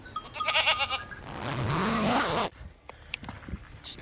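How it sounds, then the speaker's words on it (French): Goats bleat at night in the mountains, a wavering, strained cry rising and falling for about a second amid rustling and light movement noises close by. "Il y a deux chèvres qui regardent d'autres chèvres."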